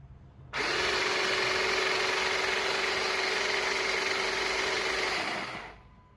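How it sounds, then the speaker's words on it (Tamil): A Wonderchef electric vegetable chopper motor switches on and runs with a loud, steady high whine for about five seconds, then winds down, heard alone without talk. "அதுதான் காம்போ ஆஃபராக கொடுத்துருக்க நம்மளுக்கு சாப்பர். அதுவும் பார்த்தீங்கன்னா எலக்ட்ரிக்கில் ஒர்க் ஆகிற மாதிரி கொடுத்துருக்காங்க. இப்போ உங்களுக்கு ஆன் பண்ணி காட்டுறேன்"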